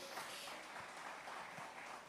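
A church congregation claps hands in offering during a worship service, a dense, steady wash of many hands held at an even, fairly quiet level for about two seconds, with no words spoken.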